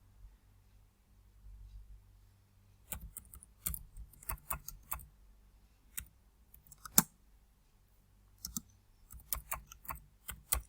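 Keys clicking on a computer keyboard while text is typed into Illustrator, a quiet start followed by irregular bursts of sharp taps, faint and close, with no talking.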